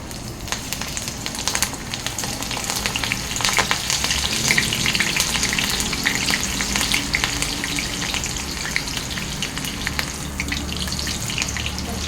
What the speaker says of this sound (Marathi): त्याच्यामध्ये मी काप मारलेले आहेत तर ही आता मी तळून घेते